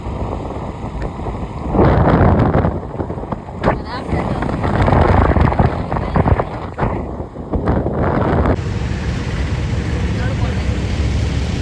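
Steady, rushing wind roars close to the microphone, with voices talking underneath before the gusts ease into a softer, even hiss.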